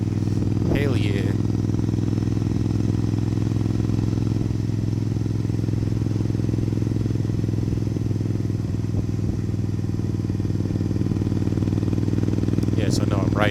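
A Suzuki Intruder 1400, an old SR37, ridden at an easy pace: a steady low engine drone holds throughout, mixed with rushing wind noise.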